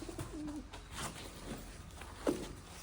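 Soft cooing of nesting pigeons on a farm rises from a quiet background, a low throaty warble early on followed by a few brief, muffled calls.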